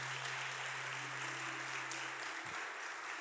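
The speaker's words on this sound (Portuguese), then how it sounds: "Aplaude a palavra de Deus e toma posse disso." A church congregation applauds in a steady, even wash of clapping. It sounds distant and fairly quiet throughout.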